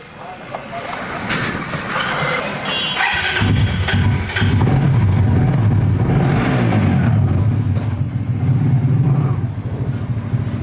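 A car engine turns over and catches, then a steady low engine drone carries on as the vehicle drives, loud and close throughout.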